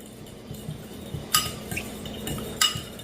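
A spoon stirs garlic and onion powder into a glaze in a bowl, giving light scraping and stirring under two sharp clinks of utensil against the bowl.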